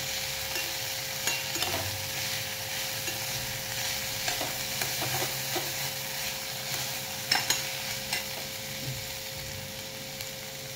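Sprouted green gram mixture sautéing in a pan gives a long steady sizzle, broken by occasional spoon scrapes and clinks against the metal as it is stirred, with a constant low hum behind and no talking.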